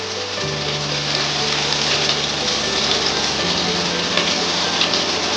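Chopped onion frying in oil in a pan with potatoes, a continuous loud hiss and crackle like heavy rain, steady throughout with a low hum underneath.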